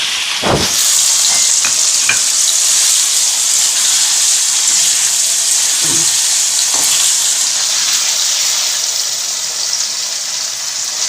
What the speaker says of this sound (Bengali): পনিরগুলো আগে ভেজে তুলে রাখবো